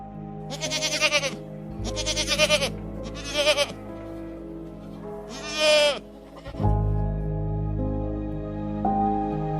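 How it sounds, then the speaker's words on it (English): A goat on a farm bleats in four wavering, nasal calls spaced across the stretch, loud and close, with a steady low musical backing underneath and no talking. "Goat."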